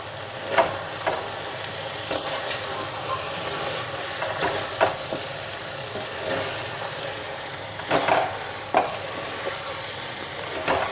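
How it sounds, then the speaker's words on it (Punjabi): Kohlrabi pieces tossed with spices in a hot pan, a continuous sizzle broken by repeated scraping stirs and a few sharper clacks of the spoon against the metal. "ਚੰਗੀ ਤਰ੍ਹਾਂ ਇਸ ਨੂੰ ਮਸਾਲੇ ਦੇ ਨਾਲ ਮਿਕਸ ਕਰ ਦਿੰਨੇ ਆ"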